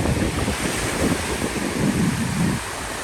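Ocean surf breaks on a beach in Japan, a continuous broadband wash of waves with gusts of wind buffeting the microphone, steady and moderately loud with no voices.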